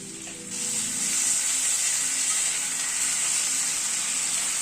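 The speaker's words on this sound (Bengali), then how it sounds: "1 টিএসপি আদা বাটা দিয়ে দিচ্ছি" Ginger paste hits hot oil with frying papaya and potato, a steady loud sizzle that rises sharply after a brief quieter start and then holds continuous with no talking.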